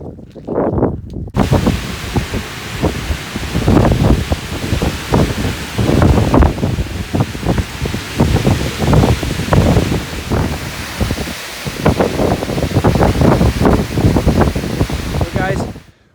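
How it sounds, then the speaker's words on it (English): Strong winter storm wind gusting from the west at around 45 to 50 miles an hour roars and buffets the microphone in a continuous loud rush during an ice storm. "The wind is 45 to 48 miles an hour sustained wind, over 50 mile an hour gusts, straight out of the west."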